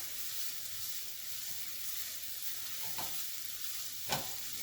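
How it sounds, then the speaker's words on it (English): Minced garlic and onion sauté in a pan, a steady, soft sizzle of frying held close, with occasional light clicks of a spoon stirring and one sharper tap near the end. "You mix it in with your onion and get that sauteing"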